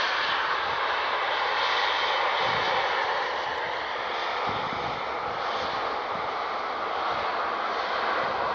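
TUI airliner arriving at Manchester Airport, a continuous distant jet roar with a hissy, even texture, steady and unbroken with no talk over it.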